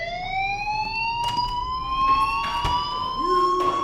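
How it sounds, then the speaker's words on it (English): A fire alarm rings in the video game Life is Strange, a sustained electronic tone that rises slightly in pitch, held throughout with faint clattering and short noises behind it. "Hey, do you hear that fire alarm? That means you should be outside."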